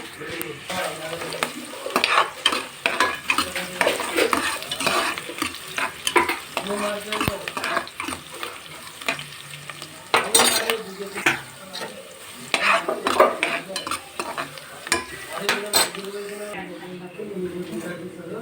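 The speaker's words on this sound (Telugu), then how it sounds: "ఆనియన్స్ అయితే బాగా ఫ్రై అవ్వాలి" Onions frying and being stirred in a pan for chicken curry, a steady sizzle broken by repeated scraping stirs throughout, with speech present at times.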